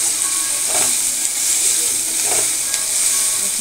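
Tomatoes and garlic paste hit a pan of frying onions with a steady, close sizzle and hiss, broken by a few soft stirring scrapes, with no talking.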